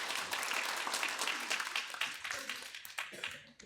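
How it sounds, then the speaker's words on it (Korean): Congregation applauding in welcome at a church Christmas thanksgiving service, a dense, steady wash of hand claps that continues for several seconds and then thins out toward the end. "우리 박수로 한번 같이 환영하겠습니다."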